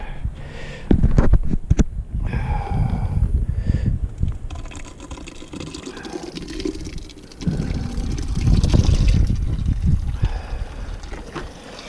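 Molten wax pours from a wax press into a pot, with an uneven liquid trickle and splash marked by clunks and knocks of the equipment, rising and falling over the length of the clip.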